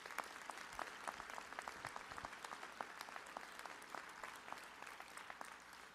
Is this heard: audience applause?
yes